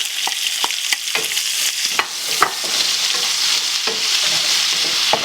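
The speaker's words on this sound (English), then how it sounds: "And we will keep stirring our onions till it gets translucent, like light pink color" Chopped onions sizzle loudly in hot oil for masala okra with potatoes, a bright continuous hiss punctuated by sharp spoon-against-pan stirring knocks, close up and without speech.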